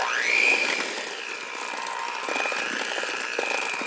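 Madeleine batter of pumpkin purée and dry ingredients is mixed in a bowl, giving a steady, close whirring churn with a thin mechanical whine that swells briefly at the start and then holds an even level.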